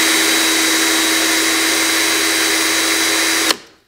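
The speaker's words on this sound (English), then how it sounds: "So if I test it out on the drill" A steady high-pitched electric drill spins a classic motorcycle speedometer under repair, whirring continuously for a few seconds, loud and close, then cuts off abruptly and spins down.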